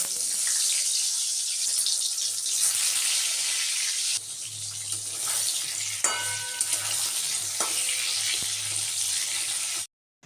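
Eggplant fries in hot oil in a kadai, a loud, dense, continuous sizzle heard up close that crackles and pops now and then before cutting off abruptly at the end.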